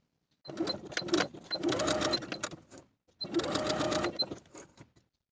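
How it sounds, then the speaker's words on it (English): A sewing machine runs in two bursts, basting along the bottom edges of a cardigan or tank top piece from notch to notch, the motor whirring steadily close by with a short pause between runs. "On both bottom edges, baste from notch to notch, leaving thread tails so you have threads to pull for gathering."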